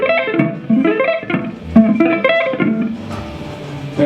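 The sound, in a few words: electric guitar sweep picking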